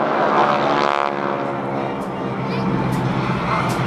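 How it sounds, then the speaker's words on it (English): Propeller planes of the GEICO Skytypers team flying past at an airshow, a loud steady engine drone that swells and holds throughout, with faint crowd babble beneath. "As they approach, they will peel off and break down the runway into a trail position."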